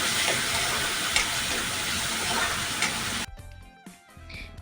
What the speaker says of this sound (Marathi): तेलामध्ये भाजून घेऊ कांदा आणि कढीपत्ता कांदा कढीपत्ता भाजल्यावरती टोमॅटो टाकून घेऊ